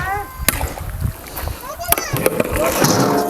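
Water splashes into a large batch of mutton cooking on a wood-fired village stove, with a few sharp splashes and sloshing heard under close, continuous talk.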